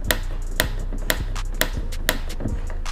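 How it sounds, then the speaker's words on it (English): Small clicks from the interior door handle of a Toyota Celica as it is lifted, five sharp, evenly spaced ticks about half a second apart, close up against a steady low hum. "I can hear like a little clicking when I lift on the handle."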